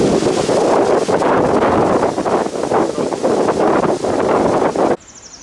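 Strong, gusty wind roars and buffets the microphone continuously, loud and close, then cuts off abruptly near the end.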